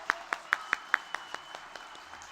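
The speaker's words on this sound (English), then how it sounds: "Can we give our grade fives another big round of applause?" A few audience members at a school winter concert clap for grade five performers, roughly ten sharp distinct claps in a loose rhythm that thin out and fade toward the end.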